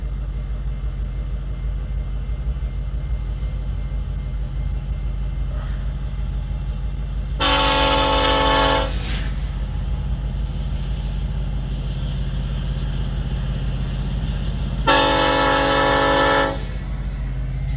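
A Montana Rail Link freight train rumbles steadily past while its horn sounds two long, loud blasts several seconds apart.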